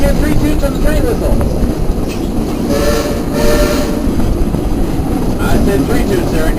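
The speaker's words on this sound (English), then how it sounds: "Hey, Ichabod, if you're doing okay, Bill, let me hear 3 toots on the train whistle" The Frisco Silver Dollar Line train's whistle sounds a few short toots over the loud, continuous rumble and clatter of the moving train on July 4th, with voices heard alongside.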